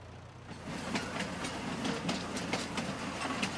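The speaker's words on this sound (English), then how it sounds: "Train." Train rolling past in the farming game My Little Farm, a steady rumble with rhythmic clickety-clack of wheels over rail joints, fairly close and continuous, with no talking.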